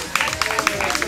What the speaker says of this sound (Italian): E ora l'applauso va anche per Petro.